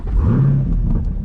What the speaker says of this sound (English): Listen to this custom exhaust on here